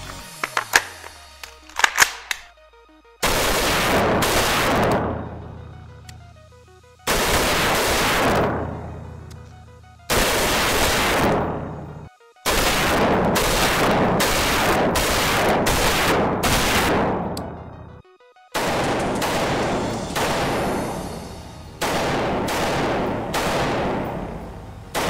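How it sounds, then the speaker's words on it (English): A SIG SPEAR LT rifle fires rounds downrange at targets outdoors, in loud sharp shots that come singly and in rapid strings, separated by short silent pauses. "let's see what we can do with this thing and just have a little fun, throw some rounds down range"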